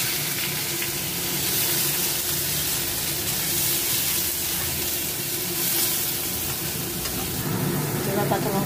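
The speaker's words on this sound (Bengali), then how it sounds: "সর্ষের তেল দেবো, সাদা জিরে আর তেজপাতা দেবো, পেঁয়াজ কুচিটা দিয়ে দেবো।" Chopped onion hits hot mustard oil with cumin seeds and bay leaf, giving a loud, continuous sizzle and hiss close by that holds steady throughout.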